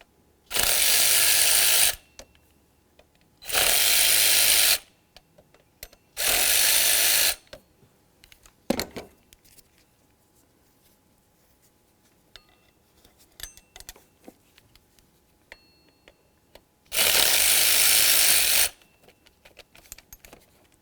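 Ratchet wrench loosening 8mm water pump bolts on a Buick LeSabre engine: four separate bursts of rapid clicking, each about a second or two long, with quiet gaps and small metallic clinks of tools and bolts between them.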